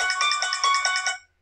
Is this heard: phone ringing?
yes